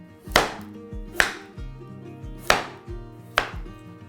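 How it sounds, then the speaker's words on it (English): A knife slicing a carrot on a chopping board before it is cut into julienne: four firm, evenly spaced cuts, each with a sharp crisp attack and a short ringing tail, close and clear with no talking. "For a julienne, you need to slice the carrot first."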